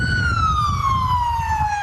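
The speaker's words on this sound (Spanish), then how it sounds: "hacía sonar la sirena" A siren from a Quito fire brigade truck wails loud and close as a steady, slowly falling tone over a low engine rumble, with no voices.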